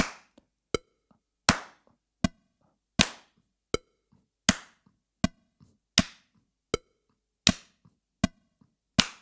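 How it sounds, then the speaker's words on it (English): Single hands clap in strict time against a metronome during drum practice, crisp isolated claps with sharp decays spaced evenly, alternating with softer metronome ticks in between. "When we clap on 2 and 4, we get a little bit different sense of the feel of that measure"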